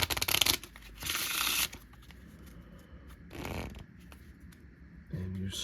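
A deck of cards shuffled in Card Drives, a few short riffling bursts of crisp paper flutter, close and moderately loud, separated by quieter pauses.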